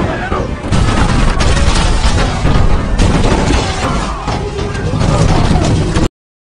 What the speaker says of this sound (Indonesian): sempat menembakkan meriam, kapal Yi Sun Sin dihujani peluru dan mengenai prajurit bagian kemudi.